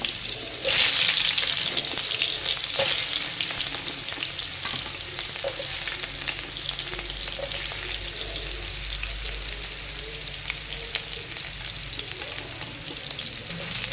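Bitter gourd pieces dropped into hot oil, a loud burst of sizzling at the start that settles into a steady, close frying hiss with occasional stirring and no voices.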